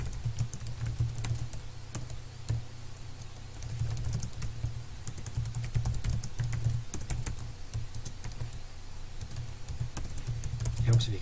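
Steady typing on a computer keyboard, rapid close key clicks in uneven bursts running throughout, with a low hum underneath and someone talking at times.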